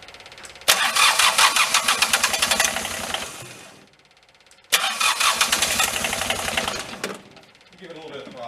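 A skid steer fitted with a replacement engine cranks and fires in two loud, close bursts separated by a brief lull, then settles into a quieter running sound.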